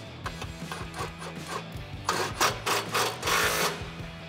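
Hardware on a winch control box being tightened during a 12,000 lb winch install on a Ford F150, giving a steady run of close, rhythmic rasping strokes over a low mechanical hum that grows louder and busier toward the end.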